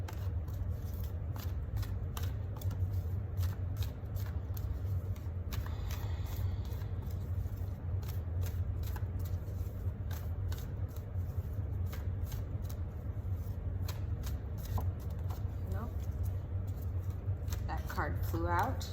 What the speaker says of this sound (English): I just wanted to pull some cards as well